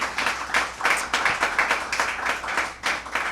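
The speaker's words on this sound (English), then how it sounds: "Give him a round of applause." Applause from a crowd at a Pride Month celebration, greeting a state senator. Dense, steady clapping fills the space from start to finish, with rippling pulses and no voices over it.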